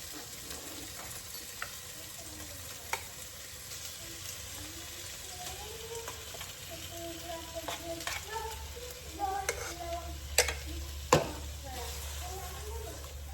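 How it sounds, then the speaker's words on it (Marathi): Pomfret fish coated in masala paste is stirred in a pan over a quiet frying hiss, with intermittent spoon scrapes and clinks that grow busier and sharper toward the end. "असं हलवून घ्यायचं जरा म्हणजे खाली लागायला नको"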